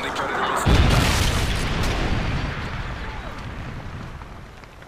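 A Predator missile strike in Call of Duty MW3 lands with a sudden heavy boom after a brief lead-in, followed by a long rumbling roar that slowly fades.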